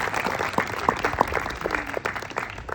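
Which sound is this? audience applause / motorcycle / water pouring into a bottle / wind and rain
audience applause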